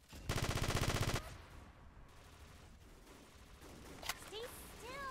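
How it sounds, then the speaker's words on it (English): A burst of rapid automatic gunfire rattles loudly for about a second in a video game, followed by quieter scattered game sounds and a sharp effect. "I'm trying to shoot you."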